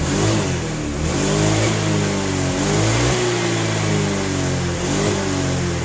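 A motorcycle engine revs up and down repeatedly in steady, loud swells, close to the microphone with a rough mid-pitched drone and no talking.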